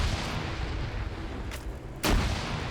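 A grenade blows up during a mechanized player-versus-player video game match: a short sharp blast, then a heavier booming burst with low rumble a moment later, both cutting through steady background battle noise.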